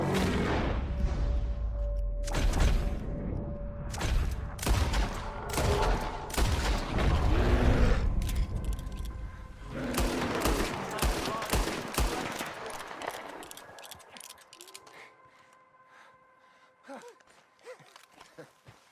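Rapid bursts of gunfire from a Red Dead Redemption 2 shootout, many sharp overlapping shots in dense volleys that thin out and fade over the final seconds, with voices mixed in.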